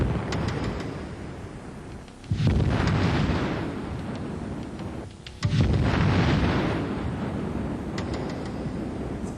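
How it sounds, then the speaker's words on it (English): Two massive explosions roughly three seconds apart, each a sudden deep roaring blast that lingers as a long rumbling wash of noise. "The phenomenon is known as a Bleve, a boiling liquid expanding vapor explosion."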